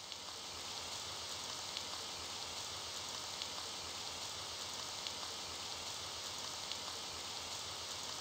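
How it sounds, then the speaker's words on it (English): Steady rain from the video game The Dark Side of Little Red Riding Hood, an even, continuous hiss of falling drops with no letup, heard alone and fairly quiet throughout. "Oh, and it's raining."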